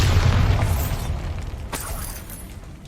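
A Bombarda blasting spell from Hogwarts Legacy goes off as a loud, close boom with a crackling burst, fading over a few seconds into a rumbling tail.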